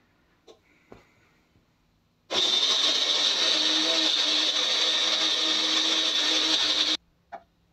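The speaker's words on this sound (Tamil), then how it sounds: "இதை அப்படியே நைஸாக அரைச்சி எடுத்துக்கலாம்." A mixer grinder blending bananas, dates and a cup of water into a smooth paste runs loud and steady for about five seconds, its whirring motor starting abruptly and cutting off, with small clicks of handling before and after.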